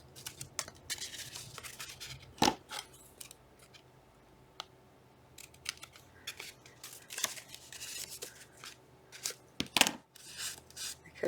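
Scissors trim a small piece of paper, close, crisp snips scattered irregularly with soft rustling between them and no talking.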